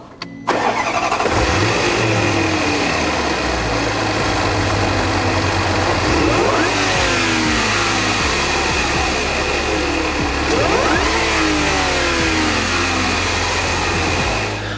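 A stock Range Rover SVR 5.0 V8 SUV engine idles with a deep rumble, then revs sharply twice, each rise climbing in pitch before falling back to idle.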